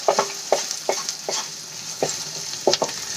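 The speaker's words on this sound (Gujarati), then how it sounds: "બે મિનિટ માટે આપણે વસ્તુને સાંતળી લઈશું" Vegetables sauté in a pan for a Maggi snack, a soft sizzle broken by repeated scraping stirs of a spoon every half second or so, close by and without voices.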